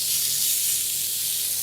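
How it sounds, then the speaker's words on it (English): Skirt steak sears in a hot cast iron grill pan with a steady, close, loud hiss of sizzling fat, unbroken across the whole moment and free of talk. "nice sizzle"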